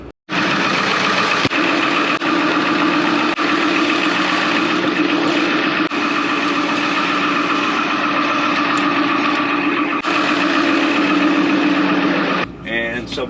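A generator runs inside a box truck with a steady, loud, close mechanical drone that holds an even tone throughout, with a voice talking faintly over it.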